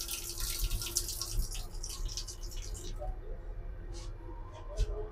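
Tap water runs into a basin in the bathroom of the Jan Shatabdi Express train between Howrah and Bhubaneswar. A soft, hissing stream flows for about three seconds and then stops, leaving a low train rumble beneath a few faint drips.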